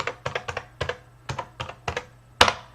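A password is typed on a computer keyboard in a series of about a dozen crisp, close key clicks at an uneven rhythm, ending in a sharper, heavier keystroke, with no talking.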